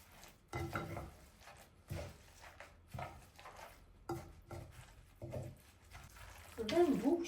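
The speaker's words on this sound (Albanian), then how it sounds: "Dhe tash mosën do e përzij mirë e mirë" A filling of 400 grams of yogurt, three eggs and salt is stirred in a bowl, making quiet, regular scraping strokes about once a second, soft and close, with a clatter near the end.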